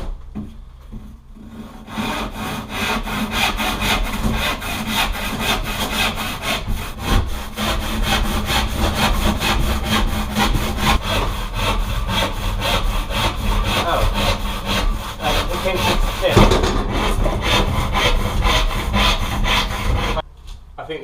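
An old wood saw cuts through plasterboard sheets during a bathroom renovation, giving a close, loud, continuous rasping stroke after stroke that ends abruptly near the finish.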